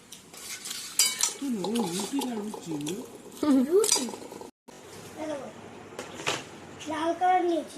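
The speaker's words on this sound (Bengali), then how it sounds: "ভীষণ খিদে পেয়েছে খেয়ে নি আর আমি এই থালাটা নিয়েছি" Cutlery and dishes clink and scrape on a plate during a home meal, with light repeated taps under near-constant speech.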